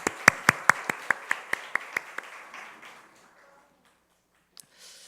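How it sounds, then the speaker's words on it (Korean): A congregation in a church claps to welcome a family back to the service, with a dozen or so sharp, evenly spaced claps that soften into scattered patter and then silence. "박수로 환영합니다."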